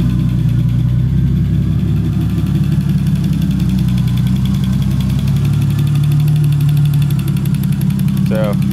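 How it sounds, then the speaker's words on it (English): A turbocharged 1985 BMW E30 engine runs at a steady idle up close, with a loud, constant mechanical drone throughout. "See my turbo spinning there."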